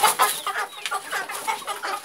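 Chicks in an incubator peeping rapidly and continuously, high bright chirps close by and fairly loud, with no talk.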